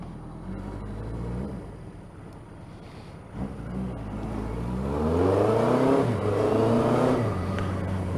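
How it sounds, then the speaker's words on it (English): A Suzuki GS1000 motorcycle with a Delkevic exhaust, engine note rising and falling through several revs into a steady, deeper drone, no voices. "it does sound quite nice without being obnoxious on that Delcovic exhaust"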